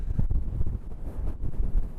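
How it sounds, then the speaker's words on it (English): Strong stormy wind at an exposed coastal headland beside old wartime gun turrets, gusting and buffeting the microphone in low, rumbling surges that rise and fall, loud and close with no talking. "It's really windy today, by the way, really stormy."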